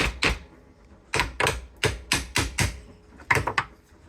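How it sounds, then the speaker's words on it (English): A hammer gives a series of sharp metallic taps to a failed universal joint on a Series Land Rover, about eight to ten close, crisp strikes in uneven pairs and singles with short pauses between. "I'll get a hammer"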